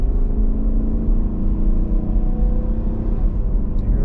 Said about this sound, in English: Hear that thing purr? It's a V8.